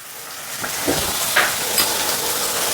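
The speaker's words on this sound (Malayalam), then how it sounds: "ഇതിനെ എല്ലാത്തിനും കൂടെ നമുക്ക് ഒന്ന് ഇളക്കി മിക്സ് ചെയ്ത് ഇതിനൊന്ന് വാടട്ടെ" Curry leaves and salt fry in a pan for a chicken liver roast, giving a continuous close hiss and sizzle with a few soft scrapes as the mixture is stirred.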